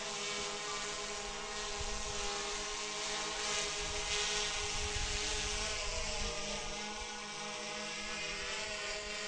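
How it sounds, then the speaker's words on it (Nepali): A drone readied for an aerial shot at the historic Birat Durbar in Sinja, Jumla, gives a steady, droning propeller whine with a constant hum, nearby and unbroken. "यो बेला चाहिँ हामी विराट दरबारमा ड्रोनको तयारी भइरहेछ ड्रोन शट लिनलाई"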